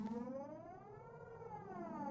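A siren from the horror visual novel Higurashi When They Cry, a steady wailing tone with stacked harmonics that slowly bends in pitch, sounding alone and fairly loud throughout.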